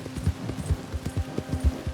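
A dark brown horse walking in Red Dead Redemption 2: regular clip-clop of hooves, close and moderately loud, in a steady walking rhythm over a low ambient hum.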